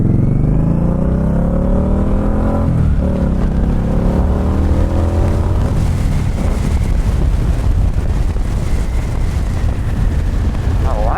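An Indian Scout Bobber Sixty motorcycle engine drones while riding, its pitch rising through the gears and then settling, heavily mixed with loud rushing wind noise.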